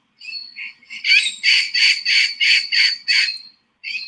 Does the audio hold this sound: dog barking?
no